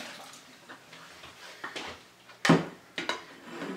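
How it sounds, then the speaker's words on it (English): Cooking water from boiled cod poured into a kitchen sink, a faint trickle with soft clatter that builds into one loud splash and gurgle, then a few smaller splashes and drips. "I'm just going to pour this into the sink."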